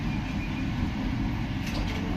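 The Vande Bharat Express 22895 on the Puri route runs with a steady, low rumbling roar and continuous wheel and track noise, heard from on board without pauses or voices.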